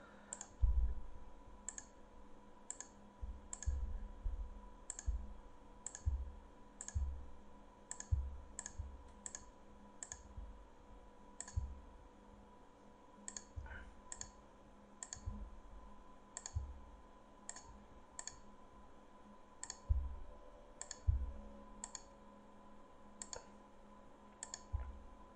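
A computer mouse clicks repeatedly while tracing a selection with the Photoshop polygon lasso tool, sharp faint clicks at irregular intervals over about 25 seconds against a quiet background hum.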